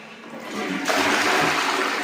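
A vacuum toilet in a modern village bathroom flushes with a sudden loud, rushing whoosh after a quieter lead-in, and the sound holds steady to the end.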